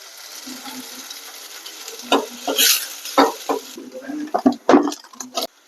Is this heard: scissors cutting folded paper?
no